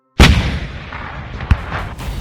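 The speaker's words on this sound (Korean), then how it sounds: "대포 소리가 들렸어." A single heavy cannon blast of artillery fire booms out loud and close, followed by a rumbling tail and a second sharper report about a second later, no voices present.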